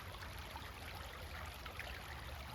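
River flowing beside a rail trail on a sunny, breezy day, a faint, steady wash of running water with no voices.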